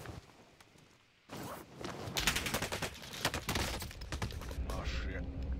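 Rapid bursts of video game gunfire crack out loud and dense after a quieter first second, layered with shouted talk over the shooting.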